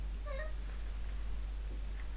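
A house cat gives one short meow early on, fairly close but soft. It sits over a steady low background hum, and nothing else stands out for the rest of the quiet stretch.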